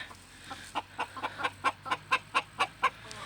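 A hen clucks in a steady run of about a dozen short, evenly spaced notes, growing a little louder, over a faint outdoor hum.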